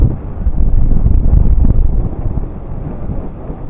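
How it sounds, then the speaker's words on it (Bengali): Strong seaside wind buffets the microphone in heavy low rumbling gusts that ease off toward the end, with no talking. "হাওয়ার প্রচুর আওয়াজও হবে"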